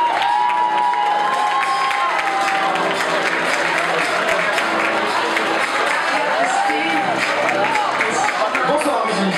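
An audience applauding and cheering at a regional Modèle Elégance beauty pageant election, dense sustained clapping with shouts and whistles, loud and continuous, with some voices mixed in.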